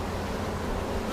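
Honey bees hum steadily from an open hive colony, a dense, continuous buzz close by that stays even for a brief moment.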